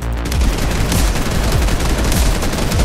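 Dense, loud gunfire from the video game Fortnite, with rapid overlapping shots and booms rattling continuously for about three seconds.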